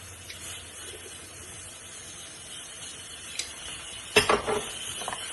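Spoon stirring turmeric and ginger garlic paste into a spinach curry in a pan, a faint steady sizzle with a brief burst of scraping clatter near the end, no talking.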